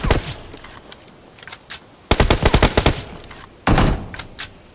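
Rapid automatic gunfire aimed at a wall in PUBG Mobile, loud close rattling bursts, a short spray early, then a long fast burst and a final dense volley, with no talk over it.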